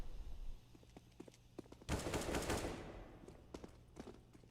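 Rifle fire in Counter-Strike on the Mirage map, a close-range burst of rapid automatic shots lasting about a second, framed by scattered single clicks and footsteps.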